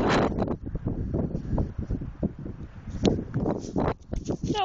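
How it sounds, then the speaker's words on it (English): Cold wind gusts buffet the microphone with low rumbling bursts, and a voice talks intermittently over the blustery noise. "The wind's here to stay."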